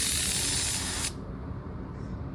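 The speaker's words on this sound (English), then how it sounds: "I have my pressure set usually around 22, 23 PSI for my sealer." Spray gun set to about 22–23 PSI sprays car paint sealer, a loud, even hiss for about a second before cutting off and leaving quiet room noise.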